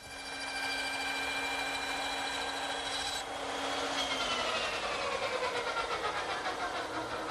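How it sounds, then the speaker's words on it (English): A small dovetail saw cuts tenon shoulders in wood, a steady close rasping stroke that runs continuously and shifts character partway through, with no talking. "I think this little dovetailing saw is more accurate"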